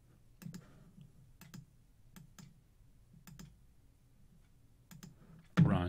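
A computer mouse clicks in LTspice circuit simulation software, making faint, close double clicks at a regular pace in a quiet room, followed by a louder bump at the end.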